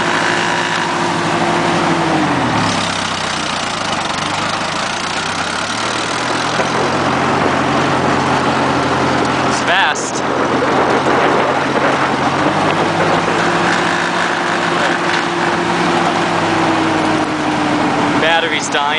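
A Massey Ferguson MF-50 tractor engine runs steadily in high gear with a low, continuous drone and shifting pitch, loud and close throughout.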